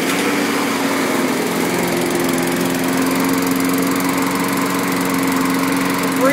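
A Craftsman lawn mower runs out of gas, its small engine droning loud and steady up close with a slight uneven sputter, alone with no voices.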